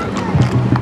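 Horses in a rodeo parade clop along the street, a few hoof strikes heard up close amid crowd noise and nearby voices.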